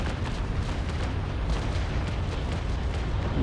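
A naval cannon broadside firing chain shot in Naval Action, a dense, sustained rumble of overlapping booms with repeated sharp cracks rolling across the whole span, loud and continuous with no talk.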